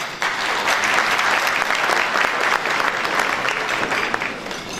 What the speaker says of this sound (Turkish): Ben sizin bu alkışlarınızı özellikle bir önceki sunumda özellikle rica ediyorum.